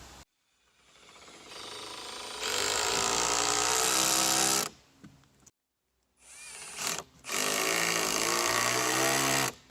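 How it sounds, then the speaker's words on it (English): A power drill driving screws into plywood and floor joists while building a peafowl tree house, with long loud whirring bursts broken by a short pause and brief stops between screws. "So what I'm doing now, I'm putting screws in"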